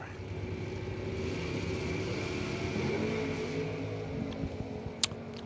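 Drag racing cars, a '67 Chevelle and an '81 Olds, heard as a steady distant engine drone and rumble from across the strip, fairly faint, with a brief sharper burst near the end.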